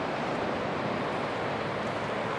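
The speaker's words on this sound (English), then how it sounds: "Here is the ocean." Ocean surf at a beach in Crescent City, Northern California, a dense steady wash of breaking waves with wind, loud and continuous, no voices.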